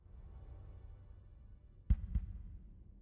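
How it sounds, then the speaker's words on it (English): A heartbeat opens an X-Men '97 episode with a double thump, two close, deep, soft beats standing out over a quiet low hum. "Just starting with a heartbeat."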